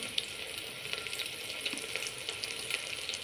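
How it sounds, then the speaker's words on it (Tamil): Onion, chili and curry leaves sautéing in a pan for tamarind kulambu, giving a steady, even frying hiss throughout with faint crackles, close and without any talk. "வெங்காயம் மிளகாய் கருவேப்பிலை இந்த மூணையும் போட்டு நல்லா வணங்க விட்டுருங்க"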